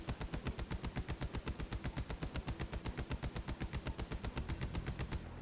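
A video game machine gun fires a fast, continuous burst of evenly spaced loud shots with no pauses, close and dense throughout.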